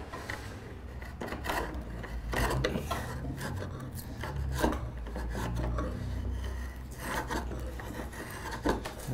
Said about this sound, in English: Your draw knife will always cut better on a slicing action.